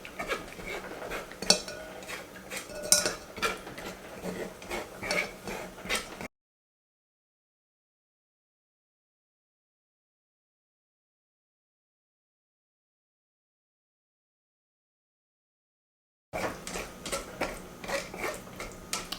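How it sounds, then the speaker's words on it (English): Cooked scuppernong grapes pressed through a metal sieve give close, light clinking and scraping in irregular bursts, broken by a long silent gap in the middle. "I've been pushing on the sieve for a few minutes now, and I think I've about got it all."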